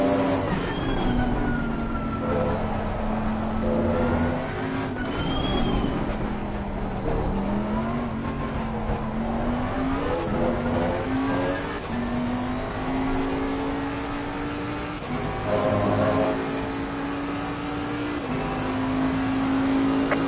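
Race car engine in Assetto Corsa Competizione on the Barcelona circuit, revving steadily with rising and falling pitch through gear changes, loud and continuous for the whole stretch.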